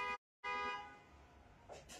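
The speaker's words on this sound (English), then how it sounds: "Car hooting outside." A car horn honks outside a building at a live painting festival: a short toot, a brief pause, then a longer sustained blast, fairly muffled and heard alone.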